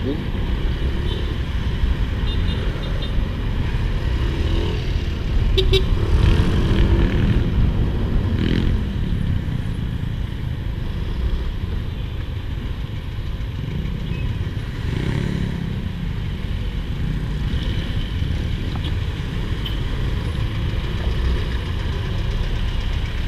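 A motorcycle engine idles and revs unevenly while squeezing through heavy, jammed traffic near Angeles and San Fernando, with other vehicle engines rumbling around it and someone talking throughout.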